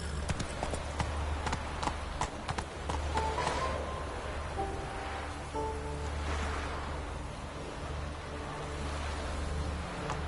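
Hooves of Roach, a horse in a PS4 video game, clip-clop in quick rhythmic bursts, fairly close, with a low rumbling game ambience and soft tonal background underneath.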